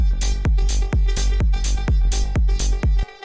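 Punchy layered techno kick drum with a sharp click on top, thumping in a steady four-on-the-floor beat through a full progressive techno mix of sustained synths and hats, loud and upfront with no talk.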